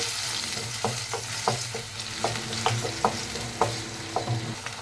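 A paste of ground onion and tomato sizzles in oil in a pan for a sardine fish curry. A spatula makes a quick, rhythmic series of scraping strokes over the steady frying hiss.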